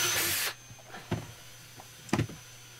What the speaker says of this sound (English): Then drill through the marks you made earlier.